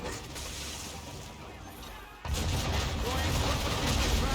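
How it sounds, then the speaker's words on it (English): Cannon and gun fire aimed at a sailing ship in the video game Assassin's Creed 3 Remastered, a sudden loud boom followed by a sustained rumbling roar of shots at sea, with voices beforehand. "Why is he shooting at us?"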